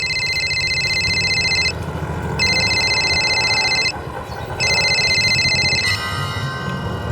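A telephone rings for an incoming call in three long electronic trilling bursts separated by short pauses, loud and close, over a low background rumble.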